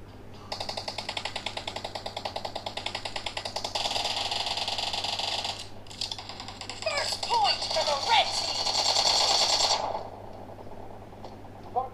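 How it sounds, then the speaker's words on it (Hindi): Gunfire from the mobile game PUBG, played on a Realme 6 phone, comes as long rapid automatic bursts followed by scattered shots, loud and close, with someone talking intermittently. "इतना बकवास मैंने शॉट दिया इस बंदे को मारा"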